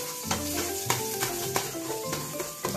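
Garlic sautéed in oil for beef lomi, stirred with a utensil: rhythmic scrapes and knocks against the pan roughly every half second over a light sizzle, close up and with no talking.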